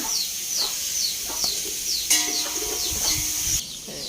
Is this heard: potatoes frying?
no